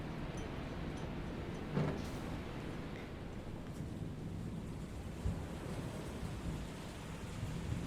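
Steady rain with rolling rumbles and a couple of brief thumps in the video game FAR: Changing Tides, a continuous broadband wash without talk.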